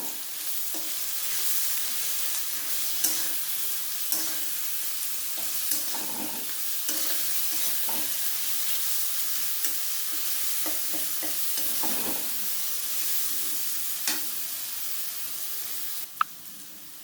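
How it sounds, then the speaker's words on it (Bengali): Garlic paste and onions fry in a pan for a desi chicken dish, a steady close sizzle broken by regular scraping taps of a spoon as they are stirred, with no talking. "রসুনটাও পেঁয়াজের সঙ্গে আমি খুব ভালো করে ভেজে নেবো"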